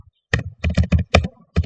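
Quick bursts of keystrokes on a computer keyboard as a Hadoop filesystem command is typed, clustered taps with short pauses between them, close and crisp with no talking.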